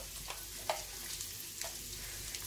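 Bulbul eggs frying in a pan give a faint, steady sizzle close by, broken by a few soft stirring taps.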